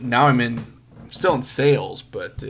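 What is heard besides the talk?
No distinct noise like a dog, phone or traffic.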